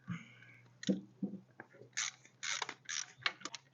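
A wrench works on cylinder head nuts of an MG BGT, making close, quiet metallic scrapes and short bursts of ratcheting with small knocks, irregular and hesitant, over a faint low hum.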